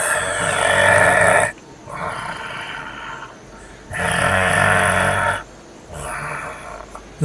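A voice imitating loud snoring like a bear, long rasping inhaled snores alternating with quieter breathy exhales in a slow repeating rhythm, close and loud with no other talk.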